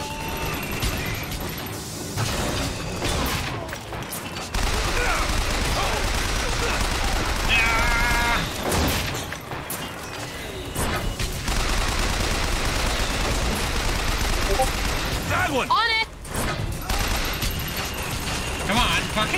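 Sustained gunfire from a gun in Bioshock Infinite, rapid loud shots running in long stretches with brief gaps, mixed with mechanical clatter and crashes, while a person talks intermittently.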